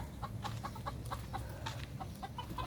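Chickens clucking in short, repeated bursts at a backyard coop, soft and fairly close over a low background hum.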